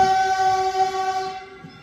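Caltrain commuter train sounding its horn at Mountain View station, a loud steady multi-tone blast holding for nearly two seconds before trailing off, with faint rumble underneath.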